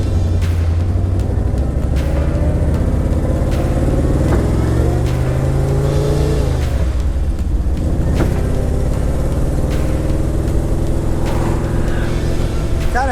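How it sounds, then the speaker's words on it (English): An abandoned 1976 Jeep CJ5 drives along with a loud, rough engine drone that rises and falls as the throttle goes on and off, with clunks and rattles from the drivetrain throughout. "Definitely makes some interesting noises when you're going back and forth on the throttle and off the throttle"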